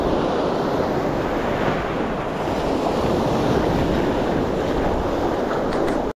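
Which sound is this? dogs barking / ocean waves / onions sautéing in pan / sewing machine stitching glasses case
ocean waves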